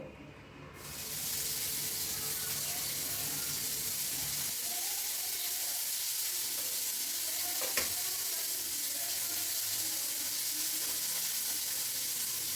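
Cut vegetables fry in a hot pan, a loud steady sizzle with a crackling hiss that swells in after a moment and carries on unbroken, close up, with no voices.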